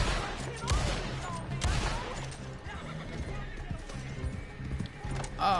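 Galloping horse hooves in Red Dead Redemption Online pound steadily under a busy mix of gunfire and shouting voices, loud and close.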